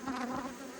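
Honey bees buzz in a close, steady drone during a hive inspection, a brief warm hum with no voices.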